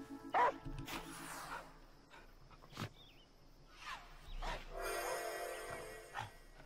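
Faint, sparse dog barks and yips from the video game Last Day of June, scattered among quiet game sounds and soft ambience, with occasional brief noises between them.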